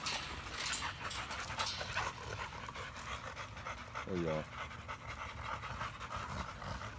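A dog pants steadily close by through the whole stretch, while people talk over it and a short voiced sound breaks in partway through.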